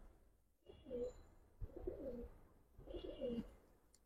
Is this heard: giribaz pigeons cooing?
yes